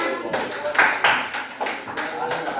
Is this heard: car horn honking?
no